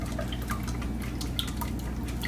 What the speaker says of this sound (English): The little spout of this measuring cup is losing liquid.